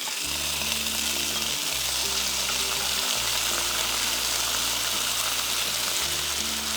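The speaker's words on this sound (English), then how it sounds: "Fry this for another minute" Sardines and tomato sauce from a can frying in a pan, giving a steady close hiss of sizzling with a low mechanical hum running underneath throughout, no voices.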